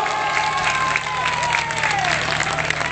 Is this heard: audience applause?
yes